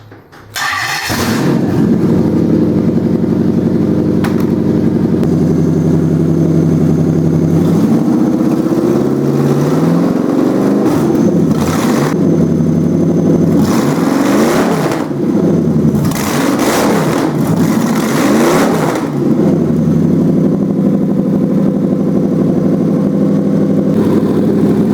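Toyota 1UZ V8 swapped into an AMC Spirit cranks briefly and fires up, settles to a loud steady idle, then gets several rising and falling revs before returning to idle, heard close with no talking.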